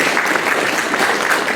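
An award ceremony audience gives steady, full applause, a continuous even wash of many hands clapping close by, with no voices over it.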